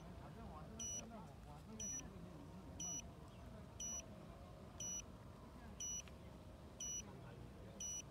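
A steady high electronic beep from a remote-control boat during compass calibration repeats about once per second, eight times, over a low rumbling background.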